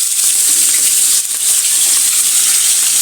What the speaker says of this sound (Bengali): এখন হলুদ আর লবণে মিশানো মাছটা গরম তেলে দিয়ে দিলাম